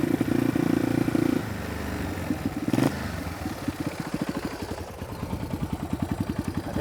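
A Yamaha BW200 Big Wheel motorcycle engine running just after a carburetor adjustment, a brief loud buzz at the start giving way to a steady, pulsing idle thump with a rhythmic mechanical clatter, close by and alone.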